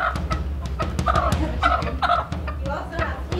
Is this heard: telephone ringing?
no